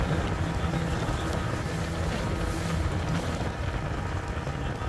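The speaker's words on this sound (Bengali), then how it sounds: "স্পিড বোট অনেক গতিতে চলছিল" A speedboat races at high speed near Cox's Bazar toward Moheshkhali. The engine drone is loud and continuous, mixed with rough wind buffeting against the microphone.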